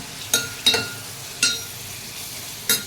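Onions and tomatoes frying for a Telugu-style chicken curry, with a low steady sizzle broken by four sharp scraping stirs of a spoon against the pan, close and fairly loud.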